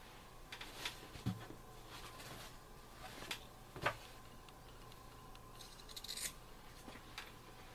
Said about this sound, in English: cut your corners at